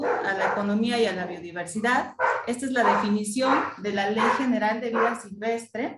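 Several dogs bark repeatedly in the background while a woman gives a spoken talk about invasive exotic species, the barks rising between and under her steady speech.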